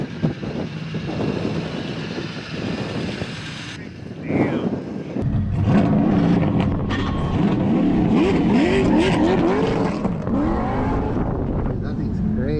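A turbocharged BMW E36 pulls hard, its engine roar building and climbing through the gears with wind buffeting the microphone, loud and close from inside or beside the car.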